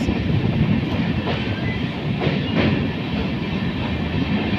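Sairang–Kolkata Express crossing the Nasipur rail bridge over the Bhagirathi in Murshidabad, a loud steady rumble of wheels with rhythmic clickety-clack heard from on board, continuous and unbroken with no voices.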